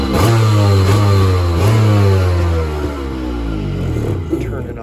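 A Kawasaki ZXI 1100 jet ski engine fires up close and loud, revs in a couple of blips, then settles toward a rough, throbbing idle.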